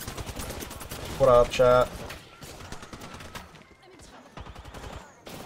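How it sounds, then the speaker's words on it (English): Rapid bursts of automatic gunfire in the video game Apex Legends, with a loud double burst near the middle, while someone talks casually over the game sound. "See, they were shooting each other."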